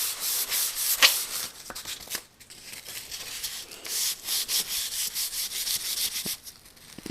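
An Epiphone guitar neck finish is hand-sanded with 400 grit sandpaper in gentle back-and-forth strokes, giving a close, soft scratchy rubbing that comes in irregular bursts with short pauses.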